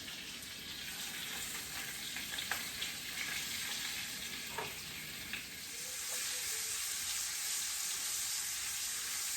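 Seasoned food sears in a hot frying pan on a home stove, giving a steady hissing sizzle with a few faint clinks early on, swelling louder after a few seconds.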